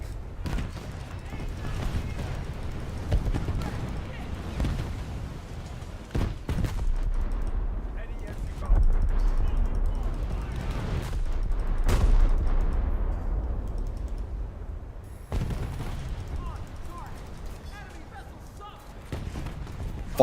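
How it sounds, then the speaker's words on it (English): Machine-gun fire rattles through a War Thunder battle in repeated loud bursts over a low rumble of engines and distant explosions, with someone talking over the action. "You with the machine guns, I want you to stop it."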